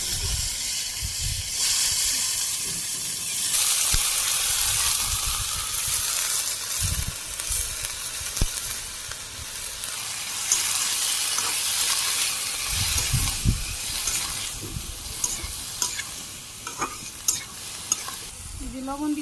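Vegetables for shukto fry in hot oil with dried chilli, cumin and raw ginger paste, giving a loud, steady sizzle and hiss with occasional stirring scrapes, close up and without talk.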